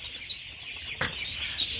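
A brooding setup holding about 2,000 ducklings gives off a steady chorus of high, thin peeping from many birds at once, with one brief louder burst partway through.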